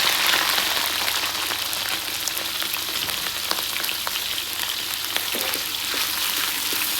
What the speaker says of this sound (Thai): แล้วก็นำตัวปลาหมึกลงไปทอด